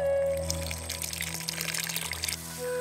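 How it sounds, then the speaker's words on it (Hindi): Tamarind water pours into a pot of dry fish broth in a soft, gurgling stream lasting about two seconds, close and fairly quiet over a steady background hum. "अब भीगने के लिए रखा गया इमली को पानी में घुलकर शोरबा में डाल लेंगे।"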